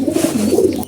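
Close, soft cooing of young pigeons, a low warbling burble that rises and falls in a brief continuous phrase.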